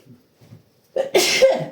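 A single sharp sneeze from a woman in a kitchen, preceded by a couple of faint breathy sounds and ending with a short voiced tail, close and loud.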